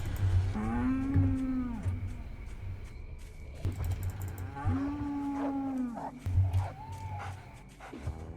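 Deep, drawn-out cow moos from the horror video game The Cows Are Watching repeat several times against a low droning game backdrop, loud and close, with a person talking in between.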